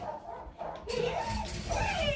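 Puppies yipping and barking close by in short overlapping bursts, with a brief lull early on before the barks grow louder and more continuous.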